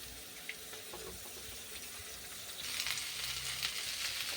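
An egg cracked straight into a hot pan with oil, carrot and salt, ready for leftover rice, gives a soft, steady sizzle. Partway through, the sizzle suddenly grows louder and fuller.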